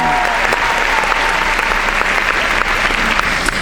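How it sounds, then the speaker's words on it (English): A seminar audience breaks into loud, sustained applause, a dense steady wash of clapping that fills the room without pause from start to finish. "Give her another round of applause."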